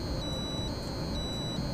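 Tetrode channel-testing current generator giving audio feedback for a short between channel pairs: a steady high electronic tone pulsing in short repeated beeps over a hissy, noisy background, faint and continuous.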